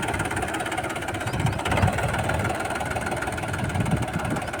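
A tractor engine runs steadily nearby with a low, even rumble and chugging throb, no voices.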